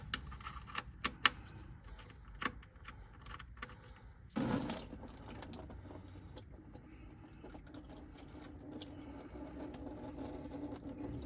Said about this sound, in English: we're letting the oil drain